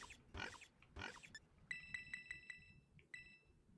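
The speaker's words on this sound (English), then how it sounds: "It makes oink noises." Girafarig's cry in the Pokémon Violet video game, an oink-like pig call, comes through as a few short bursts followed by bright repeated chiming blips, with a steady low background hum.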